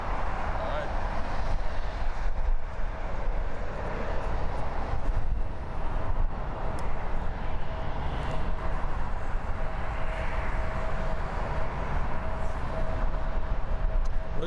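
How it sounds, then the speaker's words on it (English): A United 787-10 Dreamliner taking off at Frankfurt Airport, with a steady, loud roar of jet engines held for the whole stretch while people talk over it. "Look at that takeoff."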